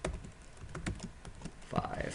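Quick, irregular keystrokes clatter on a computer keyboard while a C# test program is typed, faint and close, with a voice speaking over parts of it.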